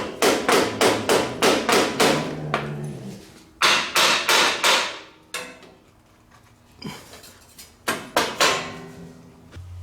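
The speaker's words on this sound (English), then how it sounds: "So to get the ball joint and the tie rod end loose, you just hit what it goes through." Repeated hammer strikes on the steering knuckle of a 2004 Yamaha Grizzly 660 ATV, knocking loose the ball joint and tie rod end: loud, close metallic bangs in quick bursts with short pauses between groups.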